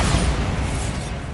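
Bombarda blasting spell cast in Hogwarts Legacy: a dense, sustained rumbling blast that fills the whole clip, loud and close, with a low boom and steady roar that fade slightly toward the end.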